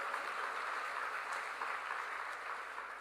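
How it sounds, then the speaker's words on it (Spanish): A church congregation gives a sustained round of applause during a sermon, a soft, even wash of many hands clapping at some distance without a break. "Dele un fuerte aplauso a Él."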